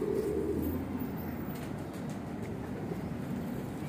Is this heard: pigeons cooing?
yes